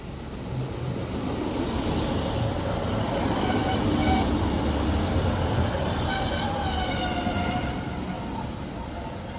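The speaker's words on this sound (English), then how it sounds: "Arriving now is the 1300 Northern service from Manchester Piccadilly to Buxton" Northern train 156404, a 1300 service from Manchester Piccadilly to Buxton, rolls into a station with a steady rumble, faint squealing wheels and rising brake noise, fairly close, no voices.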